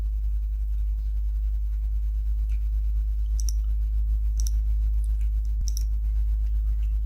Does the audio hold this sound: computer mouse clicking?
yes